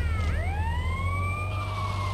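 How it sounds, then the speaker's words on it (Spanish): Police car siren in the video game GTA Liberty City Stories, a loud, continuous wailing tone that sweeps upward and holds steady over a low engine rumble, with no talking. "¿Cómo se apaga la sirena?"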